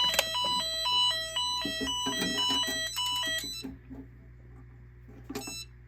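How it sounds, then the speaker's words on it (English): A fire alarm sounder set off from an Eclipse 4-zone panel blares a loud electronic tone that steps between pitches for about three and a half seconds, then cuts out, with one short burst near the end. "So here it is, an alarm."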